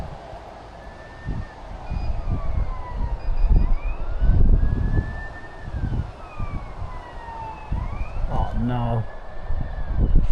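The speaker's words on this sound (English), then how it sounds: "Yeah, sirens." Police sirens wail from a distance, rising and falling in long sweeping tones that overlap, under traffic noise and brief speech nearby.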